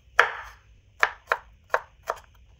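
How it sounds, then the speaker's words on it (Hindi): Garlic being chopped with a knife on a board, five separate crisp thuds spaced unevenly, close and fairly quiet against a soft background hum. "अब इनकी भी करेंगे हम कटिंग"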